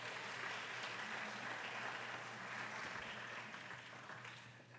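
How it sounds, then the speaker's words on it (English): An audience at a senior pageant gives a steady round of applause, fairly distant and even, gradually thinning toward the end. "let's give her a wonderful round of applause"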